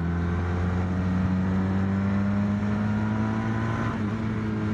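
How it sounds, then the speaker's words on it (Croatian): Honda VFR 1200 Crosstourer V4 motorcycle engine running steadily at cruising speed, a constant close droning hum with a slight pitch dip near the end, no talk. "To je taj V4 agregat, ništa sad to nije spektakularno"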